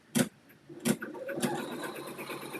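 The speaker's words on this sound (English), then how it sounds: "This should do a tack down stitch." Embroidery machine sewing a tack down stitch, with a few sharp clacks at the start followed by a steady rhythmic stitching hum that continues to the end, close and moderately loud.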